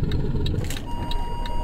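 Truck engine in Euro Truck Simulator 2 hauling a 22-tonne load of timber beams, a close, rumbling low drone with uneven revving as it struggles to pull away, plus faint clicking ticks above the engine.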